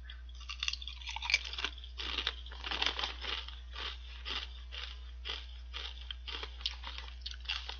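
Homeplus kettle-cooked potato chips are crunched and chewed close to the mic, with repeated crisp bites and crackly chewing in an uneven rhythm.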